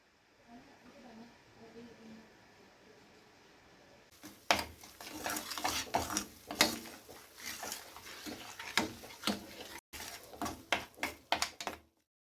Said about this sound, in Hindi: लगातार चलाते हुए भूनना है आपको